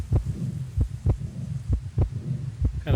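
A thudding heartbeat in the horror survival game Darkwood pulses in a steady, slow rhythm, about five heavy low beats over a dull ambient hum, loud and close.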